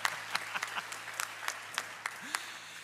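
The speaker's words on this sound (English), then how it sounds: "you can clap for them, too" A small audience at a church worship night claps for the band in sparse, distinct individual claps, scattered and fairly close, under a low steady hum.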